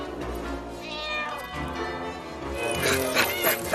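A cat meows in a film scene, a few rising wavering cries over background sound with some voice-like noise mixed in.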